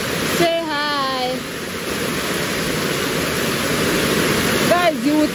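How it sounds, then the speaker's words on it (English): Heavy rain pours down steadily on a farm, a loud, dense broadband hiss that stays constant throughout, with a voice and a few brief vocal sounds rising briefly over it near the start and end. "It's a heavy rain, guys. Heavy, heavy rain."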